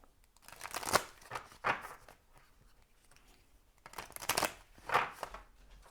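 Tarot oracle cards being shuffled by hand in several close, crisp riffling bursts separated by brief pauses, with no talking.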